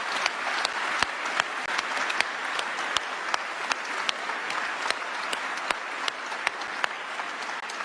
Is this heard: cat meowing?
no